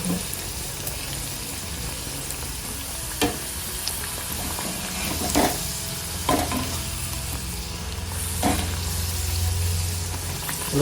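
Sweet karanji-like pastries fry in hot oil with a steady close sizzle, broken by a few sharp stirring clinks and splashes.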